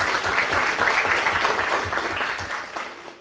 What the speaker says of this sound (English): we could clap for that as well